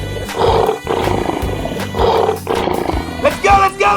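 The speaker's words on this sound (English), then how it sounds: "Lion." A lion roars in a 3D animal video game, with loud, rough, repeated roaring bursts that fill the moment, mixed with other game sounds.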